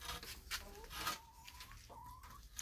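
A rooster clucks and makes short drawn-out calls close by, a few quick vocalizations over a quiet background.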